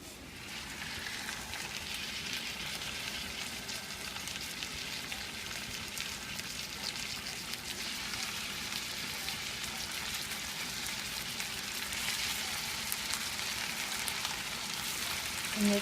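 Hamburger meat sizzling and frying in hot oil in a pan, a steady crackling hiss holding evenly throughout and growing slightly louder near the end.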